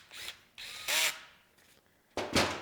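A ratchet works on a bolt on a 350 engine, giving several bursts of loud, close mechanical whirring and ratcheting separated by short pauses, with no talking.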